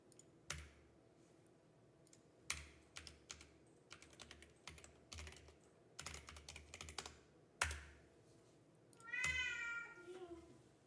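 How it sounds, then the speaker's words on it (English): A cat meows in a short rising-falling call near the end, after a stretch of computer keyboard typing and clicking in a home coding session. "Oh, cat's back."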